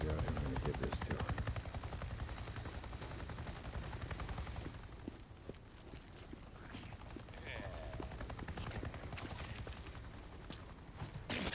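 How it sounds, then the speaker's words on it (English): Helicopter in the open-world game Days Gone passing overhead, a steady rotor thump and engine rumble filling the low end throughout, with scattered game noises and occasional clicks over it. "It just buzzed right over me and acted like I wasn't even there."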